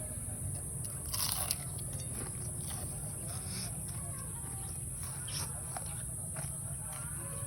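Soft, irregular crunching and biting of crispy fried moringa leaves close by, steady over a constant background hiss.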